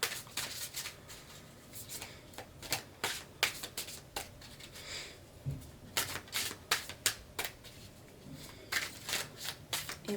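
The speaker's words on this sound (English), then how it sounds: "let me shuffle one more." Daily affirmation cards by Cheryl Richardson being shuffled by hand, with a steady run of crisp, close riffling flutters and soft slaps that come in quick bursts, with a brief pause near the middle.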